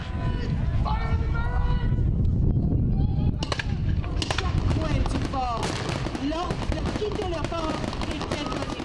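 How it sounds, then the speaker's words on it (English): Sharp bangs and crackling pops ring out over loud crowd chatter and shouting, a battle reenactment of a bombardment at Fort George with gunfire and pyrotechnic blasts scattered throughout. "bringing the story of the actual bombardment to life with pyrotechnics and storytelling"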